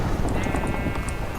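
Rapid, even clip-clop of horse hooves in Minecraft over a dense background noise, with a steady trotting rhythm.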